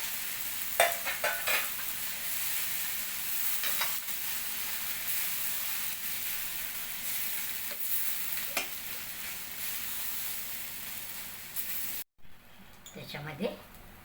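Continuous sizzling and hissing of ground corn frying in a pan, with occasional stirring scrapes; the hiss cuts out near the end and a voice speaks.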